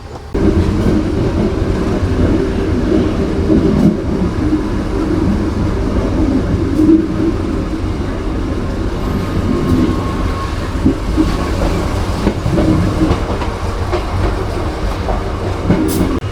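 The Putri Deli passenger train, headed by double-traction BB 203 diesel locomotives, sits at a station giving off a loud, steady, continuous engine rumble and mechanical drone heard close up, with no talking.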